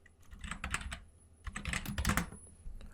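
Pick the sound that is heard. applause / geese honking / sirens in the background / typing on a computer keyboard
typing on a computer keyboard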